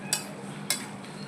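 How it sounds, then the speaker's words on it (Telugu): Aloo masala curry is stirred in a pan after coriander goes in, with two sharp, bright scrapes of a spoon against the pot over a soft steady background and no talking. "మనం కొత్తిమీర యాడ్ చేసుకొని కలుపుకోవాలి."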